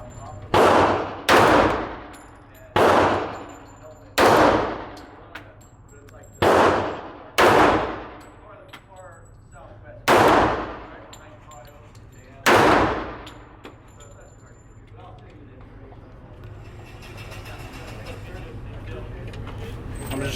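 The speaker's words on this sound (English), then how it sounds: "I'm just shooting down range." Gunfire at an outdoor shooting range, about nine loud sharp shots in an irregular sequence, each with a ringing decay, followed by quieter ambient noise.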